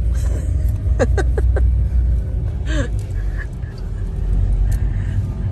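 A Toyota Lite Ace panel van's engine runs at idle, a low steady rumble close by, with brief voices and small sounds over it.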